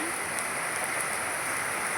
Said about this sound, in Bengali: এত সুন্দর বৃষ্টি